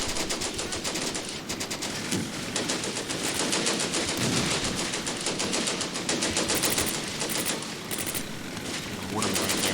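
Bren carriers in the Combat Mission war game pour out sustained machine-gun fire while reversing, rapid crackling bursts overlapping almost without pause, loud and dense, with faint game ambience underneath.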